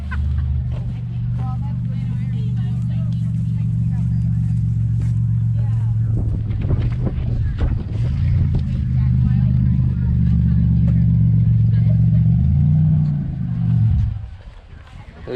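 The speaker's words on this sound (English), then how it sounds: "Oh, listen to Rusty's car." A V12 car with a cut-out exhaust idles and rumbles close by outdoors at a cornfield race event, deep and steady with a few throttle swells before cutting off near the end, wind buffeting the microphone.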